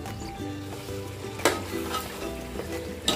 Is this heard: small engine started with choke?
no